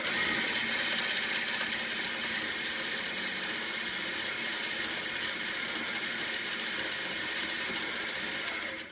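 Domestic sewing machine couching yarn onto stiff buckram for a quilted eagle design, running at a steady even whirr throughout, close and fairly quiet, with no talk.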